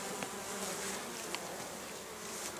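Honeybees flying around log hives make a dense, continuous buzzing hum, close and steady throughout, with no voices.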